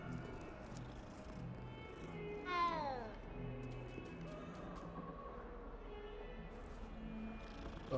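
A cat being petted in the Hogwarts Legacy game gives a single faint rising meow amid quiet background ambience, with a soft low murmur of voice underneath.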